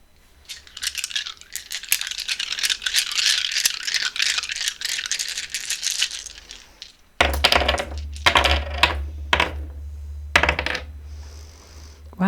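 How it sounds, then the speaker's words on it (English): A set of nine dice rolled and tumbling together, a long dense rattle of clattering plastic for several seconds, then a few sharper separate clacks as the dice settle, with no talking. "we are rolling all 9 of the dice in this set for you"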